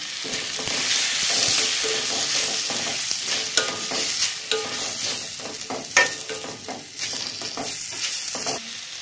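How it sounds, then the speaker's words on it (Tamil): Tomatoes frying with ginger and garlic in a pan for a potato and green peas gravy, a steady close sizzle broken by repeated scraping stir strokes. "இது தக்காளியும் நல்லா வதங்கட்டும்."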